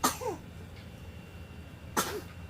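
A young child coughs twice, a few seconds apart, in short harsh bursts. The coughs are fairly faint against a quiet indoor hum.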